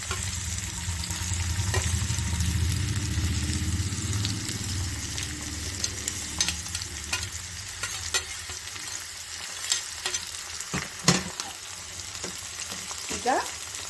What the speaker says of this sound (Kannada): ಈಗ ಈರುಳ್ಳಿ ಚೆನ್ನಾಗಿ ರೋಸ್ಟ್ ಆಗಬೇಕು. ಅಲ್ಲಿವರೆಗೂ ನಾವು ಈರುಳ್ಳಿನ ಹುರ್ಕೋಬೇಕಾಗತ್ತೆ